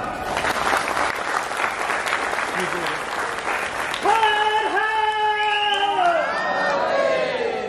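Loud, dense audience applause with cheering at a film screening event for over 400 people; after a few seconds a person begins shouting slogans over the fading clapping.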